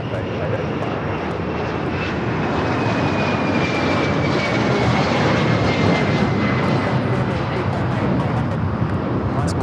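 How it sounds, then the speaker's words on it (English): A Gulfstream G600 business jet at LAX roars loudly and steadily with engine noise, a thin whining tone sliding slowly downward across the whole stretch, broadband and near. "It's Gulfstream G600."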